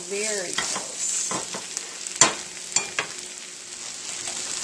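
Onions caramelizing in a hot pan sizzle steadily while a utensil stirs them, with a few sharp scrapes and clacks against the pan partway through; no one speaks.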